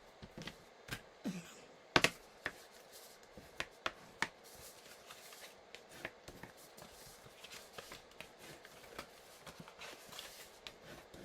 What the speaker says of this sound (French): on va marquer les plis